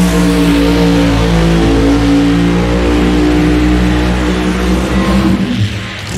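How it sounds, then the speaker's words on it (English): A 1978 Corvette drag car doing a burnout at Keystone Raceway Park, a loud, sustained roaring engine with tire noise filling the whole stretch before easing slightly at the end. "what a burnout"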